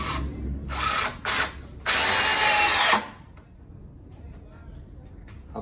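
An Einhell 18V cordless drill whirs in several close, loud bursts: two short runs, a brief pause, then a longer steady spin of about a second before it stops, leaving quiet room tone with faint clicks.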